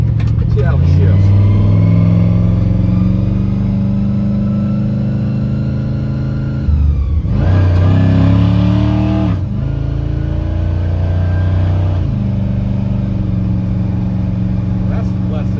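Chevrolet C10 truck with a stock automatic transmission and converter, revving loudly under load, with the engine note dropping sharply at each gear shift, rising again after each change.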